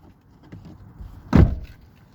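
A door swings shut with one solid thud after a few soft rustles, close by and brief.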